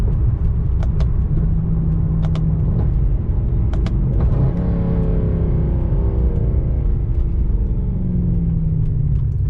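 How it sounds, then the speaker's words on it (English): Mercedes C63 AMG engine with its MCT transmission, a steady close rumble with a downshift partway through, where the pitch drops and the note shifts, then a settling drone, with a few faint clicks. "And you can see on the downshift, click."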